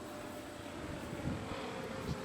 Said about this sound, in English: Look, an airplane.